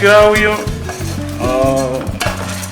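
Spices are stirred into a pot of pilau with a spoon: steady scraping and clinking against the pot in a loose rhythm, close and fairly loud, with a soft sizzle beneath.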